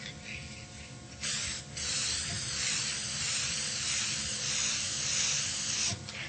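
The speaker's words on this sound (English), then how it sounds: "All you do is spray your vellum first with Krylon Preserve-It." A steady, close hiss of Krylon Preserve-It aerosol protective coating sprayed onto vellum runs for several seconds, with a short gap early on and a brief break near the end.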